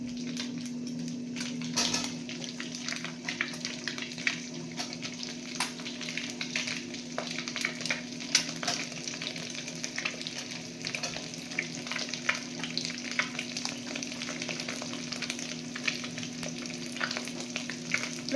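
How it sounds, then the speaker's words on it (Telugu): Onions frying over high heat in a pan for egg fried rice, a steady broadband sizzle running throughout with occasional stirring scrapes, close and continuous, no talking. "వేసేసుకొని మంచిగా ఇలా ఫ్రై చేసుకోవాలన్నమాట ఆనియన్స్."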